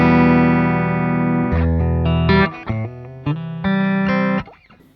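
Paul Reed Smith Special semi-hollow body electric guitar played through effects, switching between sustained distorted chords and a cleaner tone with short choppy strums, loud and close with no voices.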